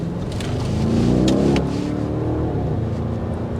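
A 2024 Audi RSQ8 with 591 horsepower, heat-soaked after sitting, has its engine revved gently with a light touch of gas. The engine hum swells briefly around the middle, then settles back to a steady, moderately close idle.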